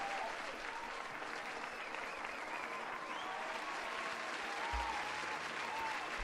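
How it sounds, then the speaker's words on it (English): Sustained audience applause at a live Dungeons & Dragons homebrew challenge show, a dense even roar of clapping held steadily throughout, with faint cheering mixed in. "Applause!"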